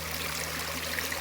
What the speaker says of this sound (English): that is gorgeous. Beautiful little waterfall area.